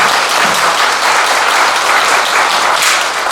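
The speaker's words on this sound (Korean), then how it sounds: "여러분 큰 박수로." A seated audience at a Buddhist dharma talk claps in loud, sustained, dense applause that fills the whole stretch without pause.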